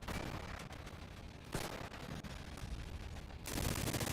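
Gunfire in a shooting video game, steady rapid volleys of shots filling the whole stretch, loud and continuous with a heavier burst near the end, with no voices.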